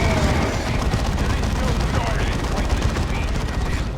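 Heavy bolter fire pours from a Land Raider Crusader in the Warhammer 40,000 game Dawn of War 2, a dense, continuous roar of rapid shots that holds steady at high volume throughout, with no pause.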